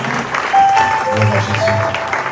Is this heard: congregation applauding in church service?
yes